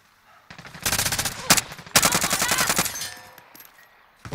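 Rapid automatic gunfire in the Warzone video game, sustained bursts of loud close shots in quick succession with a short break, a fight in progress.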